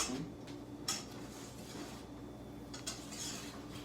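Finnish lättja pancake batter is stirred in a bowl, producing faint scraping and a few soft clinks of utensil against the bowl, quiet and unhurried, with no talk.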